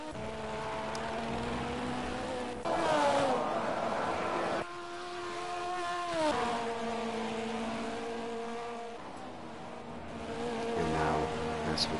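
DTM race cars lapping Imola in a racing video game, their engines whining and shifting through harmonic sweeps, with a steady mid-loud engine drone that rises and falls through gear changes.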